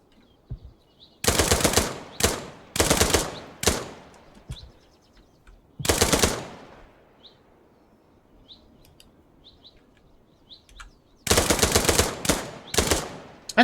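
Gunfire in the video game Dagger Directive breaks out in rapid automatic bursts, with a long rattling volley, a few isolated shots and a final cluster of quick bursts. There are quiet gaps between them.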